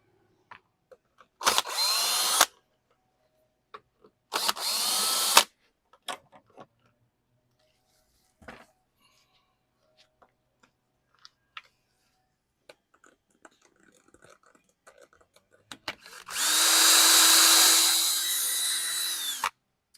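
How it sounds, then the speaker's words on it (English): A power drill bores holes for Honda Pilot third-row seat panel clips: two short whirring bursts near the start, scattered small ticks and knocks, then a longer, louder sustained drilling run near the end. "you're gonna drill a 5/16 in the middle and 1/4 inch holes on the sides"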